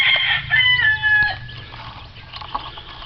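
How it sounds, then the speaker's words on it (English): Hens sitting together on a shared nest of eggs make busy, overlapping calls, with a clear rising cry at the start fading into softer clucks over steady farmyard background noise. "These two hens are both sitting"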